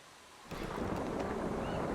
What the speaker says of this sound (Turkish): Evet yağmur geliyor.